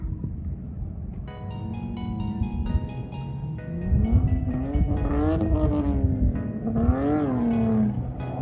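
A Lexus IS300 drifts at Grange Apple Valley Speedway, its engine roaring loudly and revving up and down in long rising and falling sweeps as the car slides, close and with no voices.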